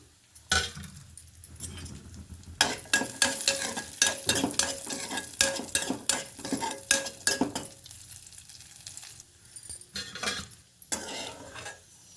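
Raisins fry in a pan for semiya payasam, a soft sizzle beneath frequent scraping and clinking of a metal spoon stirring against the pan, close and continuous.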